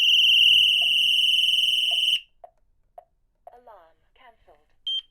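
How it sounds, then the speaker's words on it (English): An Interlogix Simon XTi security panel's internal siren blares a loud, steady high-pitched alarm tone for about two seconds, then cuts off, followed by a few sharp beeps and a brief voice. "It's going to sound off an alarm."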